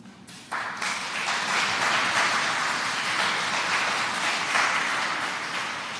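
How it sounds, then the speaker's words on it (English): Broad, steady applause from an audience at a public sector graduate scholarship awards ceremony, swelling suddenly after a brief quiet start and holding loud and continuous to the end. "That deserves our applause."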